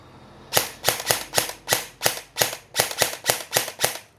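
An airsoft ENC rifle fires single semi-auto shots, about eleven sharp cracks in a fairly even rhythm a third of a second apart, close and loud with no talk.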